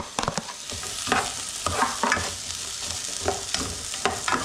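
Onion and red pepper frying in a pan for a quick spicy seafood and chorizo pasta, a steady sizzle broken by repeated scraping stirs, close and fairly loud with no talking.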